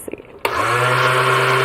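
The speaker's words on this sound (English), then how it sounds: "It's a slower blender" A slow kitchen blender starts with a few clicks of its buttons, then settles into a loud, steady whirring hum that runs without a break.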